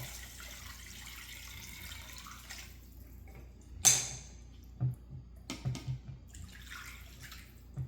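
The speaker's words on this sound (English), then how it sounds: "we're going to put just enough water in here to cover the fish." Tap water running into a container of salmon with salt and sugar for a brine, a steady stream that stops, then a sharp splash and a few drips and sloshes, close and fairly quiet.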